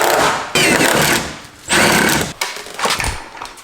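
Loud power drilling outside a garage where a totaled competition car is being repaired, coming in three long bursts of harsh rattling buzz with short breaks between, close and dominating.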